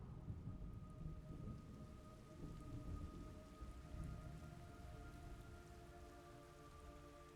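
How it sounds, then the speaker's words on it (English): Steady rain patters continuously in the video game Metal Gear Solid Delta, with low rumbling thunder rolling underneath and a faint sustained hum. "It's raining blood."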